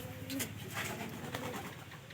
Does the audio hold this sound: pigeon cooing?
yes